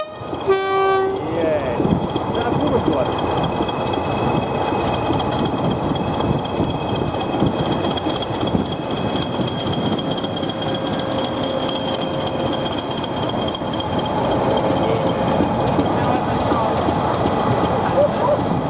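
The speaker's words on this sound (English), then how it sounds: "On its way down from Epping Forest with a train bound for North Weald is the railway's resident Class 117 diesel multiple unit" A Class 117 diesel multiple unit train rumbles past steadily on a heritage railway, its engine droning under faint clicking, with a brief horn-like tone at the start.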